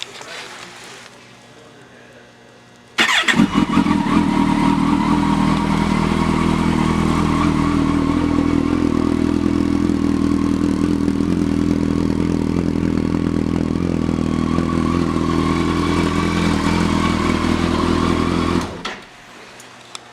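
A 2011 Kawasaki Concours 14 ABS starts up at a Harley-Davidson dealership and idles loud and steady for about fifteen seconds before shutting off abruptly, the engine note close and constant, with no talk.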